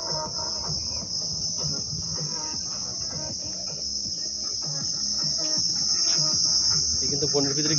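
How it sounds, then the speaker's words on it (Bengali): Crickets trill in a continuous, even, high-pitched chorus inside the Sundarbans forest near the Ichamati river, with faint rustling and distant low sounds underneath and no voices. "বনের ভিতরে কিন্তু ঝিঝি পোকা ডাকতেছে"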